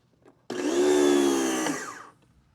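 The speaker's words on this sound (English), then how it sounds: "to turn on the pressure washer, all you have to do is turn this knob to the on position" An electric Yeryork pressure washer motor starts abruptly and runs with a steady, loud whine for about a second and a half, then winds down, with no talking over it.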